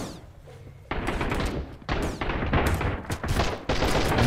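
Repeated gunshots in the survival game Sunkenland, a run of loud close shots with short gaps between them, each sharp report trailing into the next.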